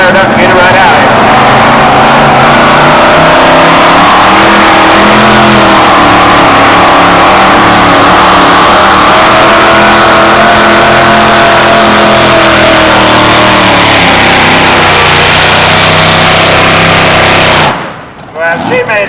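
A small pink two-wheel-drive truck at a 1991 truck pull in Tomah, Wisconsin roars at full throttle, loud and sustained for about seventeen seconds before the engine note suddenly drops away.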